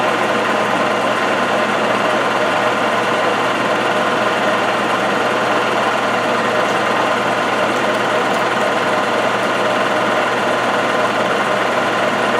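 An Ajax milling machine running while cutting metal with coolant, a steady mechanical hum and whine that holds unchanged throughout, close and loud.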